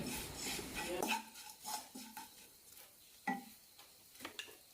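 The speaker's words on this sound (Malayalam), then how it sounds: "നന്നായി മിക്സ് ചെയ്യാം ഫ്ലെയിം ഓഫ് ചെയ്യാതെ ചെയ്യുമ്പോൾ മുളക് പൊടിയെല്ലാം കരിയാനുള്ള ചാൻസ് ഉണ്ട്" A spoon scrapes and clinks against a pan while mixing a chilli powder and mustard powder blend for raisin pickle, in short irregular strokes with a faint sizzle underneath.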